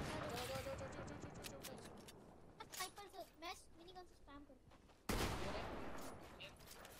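Rapid minigun fire in a video game, dense and sustained at first, broken by a few short gaps before another loud burst resumes, with a player's voice talking over it.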